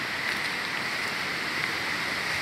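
Steady broadband rush of the Guasuntos river flowing near the Nariz del Diablo mountain route, a continuous hiss of moving water without breaks or voices.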